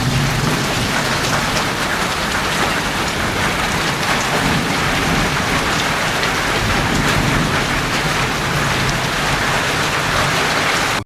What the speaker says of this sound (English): Holy crap, we are about to get a massive hailstorm.